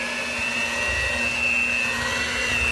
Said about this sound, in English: I'm using this little mixer